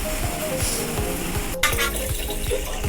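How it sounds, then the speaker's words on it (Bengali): Water pours into a cooking pot on a home stove, a steady splashing, bubbling hiss with soft sizzle running throughout at close range. "আমি জল দিয়ে দিছি বন্ধুরা"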